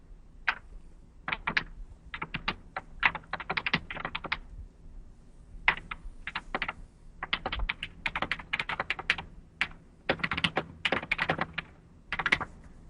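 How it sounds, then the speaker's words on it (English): Rapid bursts of keystrokes on a computer keyboard, clicking in uneven clusters and short pauses over roughly thirteen seconds, close and fairly quiet with no voices. "we just type that"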